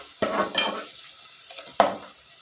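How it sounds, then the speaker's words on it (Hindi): Garlic browns in a pan for beef liver, giving a soft sizzle punctuated by two sharp stirring scrapes of a utensil against the pan, close and without talk. "इसको भी हम अच्छे से ब्राउन करेंगे, लहसुन को भी।"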